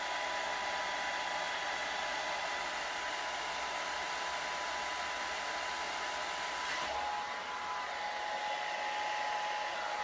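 A hair dryer blows steadily and loudly throughout while curly hair is being dried, a continuous whooshing hum with a slight shift in tone partway through and no talking.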